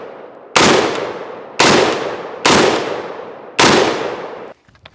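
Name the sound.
gunfire from an AR rifle at the range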